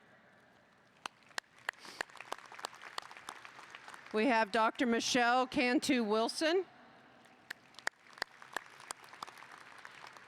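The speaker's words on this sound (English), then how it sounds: "we'll give them a round of applause as they stand" Scattered claps from a commencement audience for board members standing, sparse sharp individual claps running throughout, with an announcer's amplified voice speaking in the middle.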